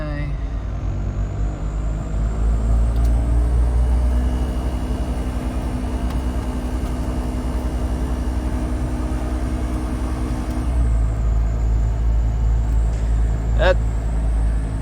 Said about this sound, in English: That blower fan is really noisy.